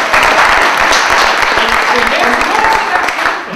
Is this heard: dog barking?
no